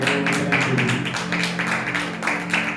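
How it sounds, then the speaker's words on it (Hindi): A church congregation at Eternal Life Church in Bathinda, Punjab claps hands in praise: a dense, steady patter of many hands, close and loud, over sustained musical tones or singing voices. "ताली बजा के हम प्रभु के नाम की तारीफ करें।"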